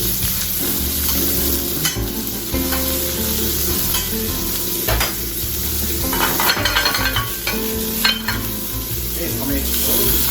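Asparagus frying in a pan over medium heat, a steady loud sizzle with occasional stirring and scraping of the pan running throughout.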